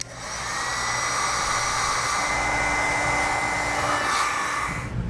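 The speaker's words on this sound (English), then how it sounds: "now we'll use a heat gun to shrink down our butt connectors" A heat gun shrinks butt connectors on trailer brake controller wiring, blowing with a steady, close whirring hiss that rises quickly and holds for several seconds before cutting off.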